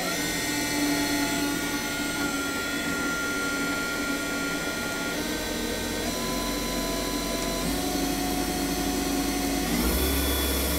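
The spindle of a 1991 Milltronics Partner I CNC mill, fitted with new bearings, runs at 2,000 rpm. It gives a steady, even mechanical whine with layered tonal hums throughout.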